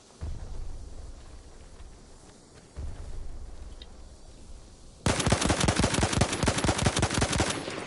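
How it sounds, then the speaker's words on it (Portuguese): Rapid automatic gunfire from the video game Call of Duty Black Ops: a couple of heavy low booms, then a loud, sustained burst of fast, evenly spaced shots that fills the last few seconds. "Errei todos os tiros."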